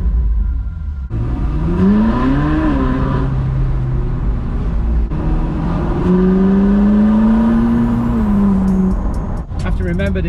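Loud Ferrari engines rev and accelerate nearby, a group of about fifteen, their rising and falling whine filling the scene. A voice speaks over the roar.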